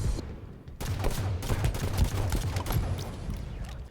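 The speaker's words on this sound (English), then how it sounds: "the satisfying pop, pop, pop of the Magnum" Rapid bursts of Magnum pistol fire in Halo 5 multiplayer, a dense run of sharp, punchy shots following close together over busy game noise.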